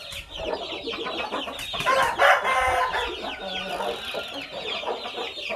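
A brooding hen gives repeated low clucks and grumbling calls, close and fairly loud, with other chicken sounds mixed in throughout.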